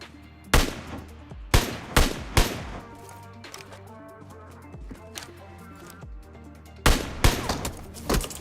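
Several loud bursts of gunfire from the mobile battle royale game PUBG Mobile, sharp shots clustered in short volleys near the start and again near the end, with quieter distant firing between.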